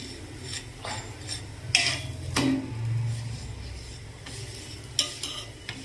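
Wheat parotta cooking in a pan with a soft sizzle under scattered scraping and clinking of a utensil against the pan, fairly quiet and close, with no talking.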